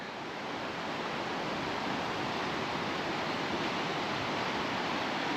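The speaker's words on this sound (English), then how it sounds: "So this is the Copper River." The Copper River, running dirty with spring runoff, gives a constant broadband rushing roar, steady and even throughout with no voices.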